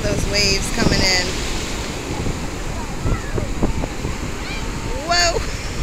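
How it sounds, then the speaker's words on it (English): Ocean surf rolls in at a Gulf Shores beach, a steady wash of waves under heavy wind buffeting, with people talking and exclaiming nearby over the roar. "look at those waves coming in"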